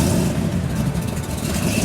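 Supercharged lowrider car engine running with a steady, dense rumble that holds at an even level throughout, close and loud.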